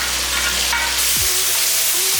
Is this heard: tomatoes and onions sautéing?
yes